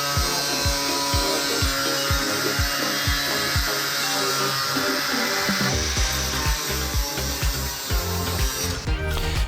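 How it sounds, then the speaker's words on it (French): A metal wall coping piece is cut with a power tool, giving a loud, steady whining grind with a rapid series of sharp rhythmic ticks that slows and changes tone partway through. "Je procède à la découpe de la première couvertine."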